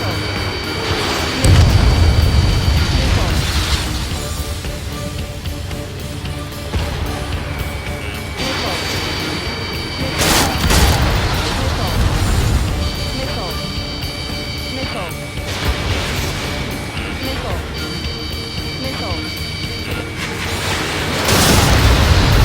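Missile launches and explosions in the jet combat game Ace Combat 7, deep booms and rushing whooshes over a constant engine drone with warning tones, radio chatter voices talking throughout.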